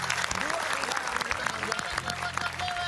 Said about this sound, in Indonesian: Tepuk tangan dong untuk